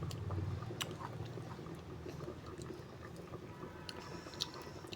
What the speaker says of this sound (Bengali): রান্না করতে করতে এখানে পেঁপে কেটে খাচ্ছি